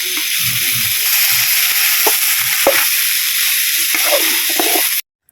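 Rice bhog made with Gobindobhog atop rice and turmeric cooks in a pan, giving a steady close sizzle with scattered scraping and clinking from stirring, then stopping abruptly near the end.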